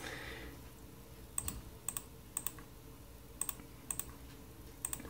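Keys on a computer keyboard tapped in short bursts of two or three presses with pauses between, close and fairly quiet against a faint room hiss.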